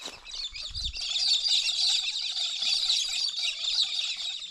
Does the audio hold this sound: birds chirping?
yes